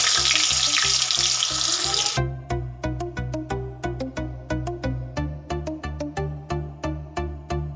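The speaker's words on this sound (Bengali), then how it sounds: "এবার ঝিঙেটা ভেজে নেব।" Ridge gourd sizzles loudly in hot oil in a pan for about two seconds, a dense frying hiss that then cuts away to a rhythmic musical beat.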